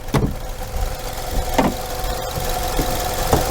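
A Nissan X-Trail with a naturally aspirated 2.5-litre gasoline engine idles nearby, a steady low mechanical hum with faint periodic ticks and pulses.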